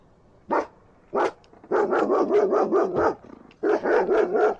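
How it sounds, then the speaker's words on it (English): A reactive dog barks close by during a training session: two single barks, then a rapid run of repeated barks, a short pause, and another burst. "Listen to the bark."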